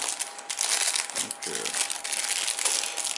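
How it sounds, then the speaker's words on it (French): Packaging for an Anker Astro 2 external battery crinkles and rustles steadily as it is unboxed, fairly loud and close, with a person talking over it. "on va le déballer"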